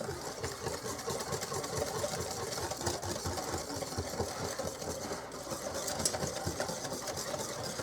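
An electric mixer runs continuously while blending a key lime filling made with lemon juice and regular lime juice, a steady close motorized whir with a rapid pulsing texture throughout and no talk.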